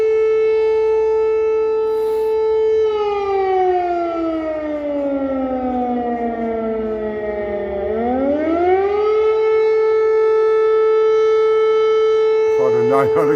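Air raid siren wailing over Mykolaiv, one long loud tone that slowly sinks in pitch, dips low, then climbs back and holds steady, carrying strongly across the city.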